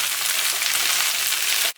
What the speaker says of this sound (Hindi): इस तरह भिंडी को फ्राई करने से कलर नाइस रहता है।